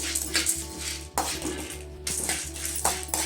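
Spices for sambar powder are slowly dry-roasted on low heat in a pan, and a metal utensil scrapes and clinks steadily against the pan over a constant low hum, with short gaps between strokes and no talking.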